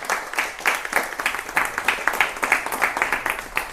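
A meeting audience in Nanded claps to pass a resolution, dense rhythmic applause from many hands, loud and sustained with pulsing bursts throughout.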